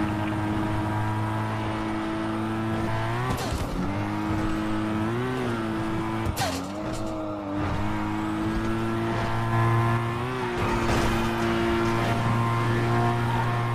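Engine drone of a car speeding through a police chase in a video game, a steady loud hum with gear-shift dips and swelling revs, continuous throughout.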